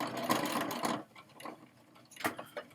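A sewing machine stitching across a quilted holiday banner, a fast steady run of needle clatter for about a second, then quieter short bursts as the stitching pivots and resumes, close and clear.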